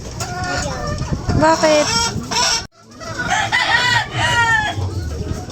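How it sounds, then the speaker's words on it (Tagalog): Chickens cluck and squawk close by, loud and busy, with a person briefly speaking among them; a short pause interrupts the flock's noise midway. "Papakainin na po nila ang nilang alagang manok."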